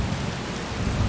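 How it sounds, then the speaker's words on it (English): Heavy rain in Skyrim keeps up a dense wash of sound, with a low swelling rumble of thunder mixed into it, close and loud. "That thunder sound effect, because I've got the headphones on, it's right next to my ears"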